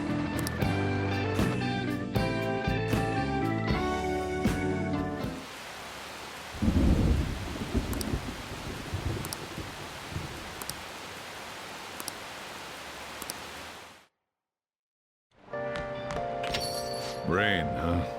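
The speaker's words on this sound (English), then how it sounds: "Rain, huh?" Rain and thunder in Persona 5 Royal: a steady hiss of rainfall with a rumbling thunderclap partway through, following a stretch of music and ending in a brief silence.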